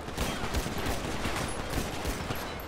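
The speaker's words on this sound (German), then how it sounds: "Da schießen die hin." Distant rattling gunfire in GTA Online, a steady muffled volley of rapid shots running through the whole moment with no voices over it.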